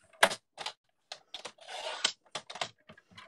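Cardstock being cut for a handmade card, a series of crisp close snips and paper slicing sounds in short bursts, including one longer scraping cut, with silence between and no speech.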